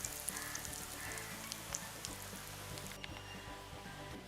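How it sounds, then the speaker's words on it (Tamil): Crab frying in hot oil gives a continuous, fairly quiet sizzle with scattered small pops and crackles throughout. "இப்படியே போட்டு பொரிச்சு எடுப்போம்"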